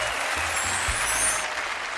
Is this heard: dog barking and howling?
no